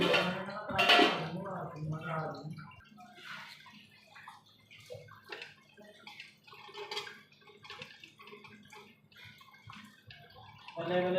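A small amount of water is poured into food while cooking, giving faint trickles and light clinks after a person speaks briefly.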